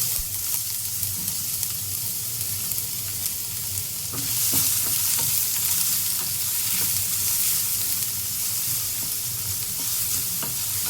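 Green chili and onion frying in ghee in a pan, a continuous soft sizzle with occasional stirring scrapes and clinks, growing a little louder partway through; no talking.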